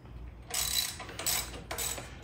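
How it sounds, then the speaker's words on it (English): Bracket being pulled off a Harley-Davidson Road Glide, giving a few clicky, ratcheting metallic bursts of moderate loudness close by, with no talking. "So I'm gonna pull the bracket off of this next."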